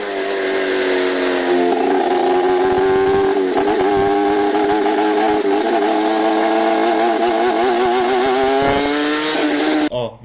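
Suzuki SV650 or Cagiva Mito motorcycle engine revving hard above 7000 rpm, loud and sustained with a metallic ringing rattle from the exhaust, pitch rising and wavering before cutting off abruptly at the end.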